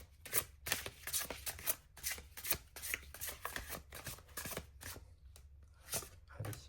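Tarot cards being shuffled by hand, quiet close riffles and slaps in irregular bursts with short pauses between them.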